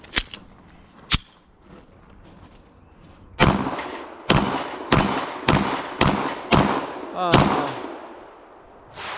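A gun fitted with a Cylee Wolf EDG optic fired about nine times outdoors. The sharp, loud reports come at irregular intervals, two spaced apart and then a quicker string, each followed by a short echoing decay.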